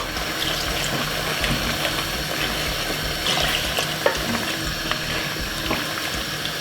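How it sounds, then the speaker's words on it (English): Water goes into a sizzling pot of Jamaican curry chicken with carrot and potato, a steady close hiss and bubbling with a few clinks of a utensil. "Add a little bit of water, not too much,"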